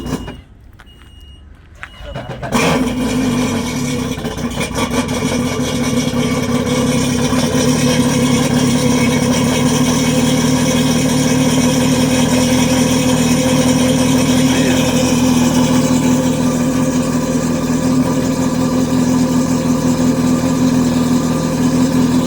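A 1.8 liter jet car boat engine with above-water exhausts starts up after a brief quiet moment and then settles into a loud, steady, throaty idle heard up close without interruption.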